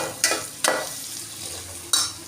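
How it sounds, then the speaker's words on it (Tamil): Chopped tomatoes go into onions frying in a pan in a home kitchen, giving a steady sizzle broken by a few sharp stirring scrapes, close and fairly loud. "கட் பண்ணி வச்சுருந்த தக்காளி போட்டுக்கலாம்."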